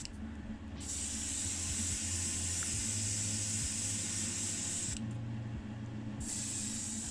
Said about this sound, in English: the magenta here really coming out of that airbrush